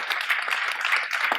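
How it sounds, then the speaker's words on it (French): Audience applause for Yves at a French rural affairs event, a dense steady patter of many hands clapping for about a second and a half at moderate level, with no speech over it. "On peut applaudir Yves, il nous regarde."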